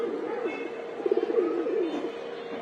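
Racing pigeons at a release during a pigeon race coo in a low, rolling burst that peaks midway, fairly close, with a faint murmur of voices around them.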